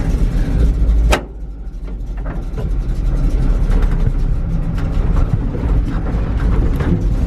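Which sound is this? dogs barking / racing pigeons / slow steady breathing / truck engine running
truck engine running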